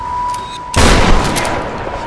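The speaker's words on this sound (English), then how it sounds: "Actually, I really love this shotgun." A shotgun in the Tomb Raider video game fires one loud, booming blast that decays into a noisy tail, over a steady hum from the game.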